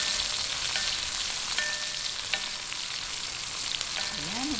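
Onions frying in a pan after garlic has turned light brown for gising-gising, a steady close sizzle with faint stirring scrapes and no talk.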